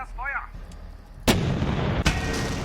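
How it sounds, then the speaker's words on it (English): Two loud, sharp explosions from a WWII tactical strategy game burst about three-quarters of a second apart, each followed by a rumbling, noisy tail, after a short tonal sound and quiet background. "Very nice. Good explosions."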